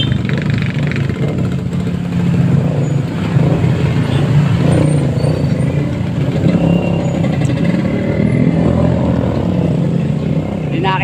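Steady road traffic noise of cars and motorcycles heard from a moving tricycle in Barangay Capri, a continuous engine-and-road rumble with people talking and laughing over it.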